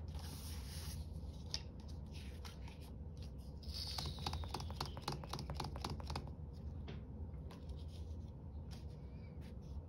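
Scissors trim the top edge of a stamped paper craft piece, making a rapid run of close, quiet snipping and paper rustle over a steady low background hum.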